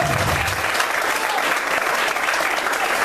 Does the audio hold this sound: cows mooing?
no